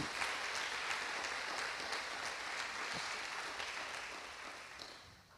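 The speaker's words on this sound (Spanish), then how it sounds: "Denle un aplauso al Rey de Reyes y Señor de Señores." Church congregation applauding, a dense, steady wash of many hands clapping that holds evenly and then tapers slightly toward the end, fairly distant and soft.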